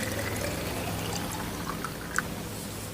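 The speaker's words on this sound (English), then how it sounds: "I use it for storing my water. And I just pour it in here." Water pours steadily from a one-gallon plastic milking jug into an electric kettle, a continuous close splashing stream with a brief clink near the end, no talking.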